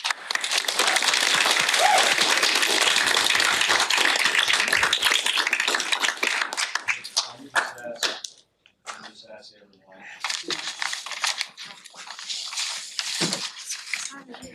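An audience claps loudly at a school district board meeting in Coppell, a dense sustained burst of applause filling a large room that thins out and fades, followed by someone speaking into a microphone.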